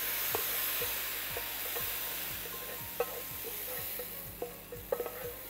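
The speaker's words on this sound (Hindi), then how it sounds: "ये हमने तड़का इसमें ऐड कर दिया, लहसुन, कड़ी पत्ते, सफ़ेद ज़ीरा, प्याज और आपका साबुत गोल मिर्चें" A tadka of garlic, curry leaves, cumin, onion and whole round red chilies sizzles into dal in a studio kitchen, a steady close hiss of frying with light stirring clinks and no talking.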